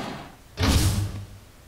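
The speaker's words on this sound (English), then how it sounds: "why did it sound like a door was closing behind us?" A door closing behind the players in a 7 Days video game, one muffled heavy thud with a short sliding rumble at mid-clip, standing alone after quiet room tone.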